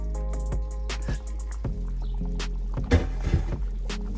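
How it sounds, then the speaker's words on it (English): Okra soup with fish bubbles and plops in a pot on the stove, irregular gurgles and pops close by over a low steady hum. "Boiling now"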